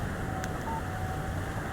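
A mobile phone text message alert in the video game Alan Wake; a short, faint electronic tone sounds once over a steady low background hum.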